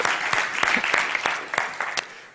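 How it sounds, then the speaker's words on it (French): Studio audience applauding two contestants, Sylvain and Cédric, at a DIY game show: dense, steady clapping throughout with sharper individual claps standing out, close and fairly loud. "Applaudissons-les."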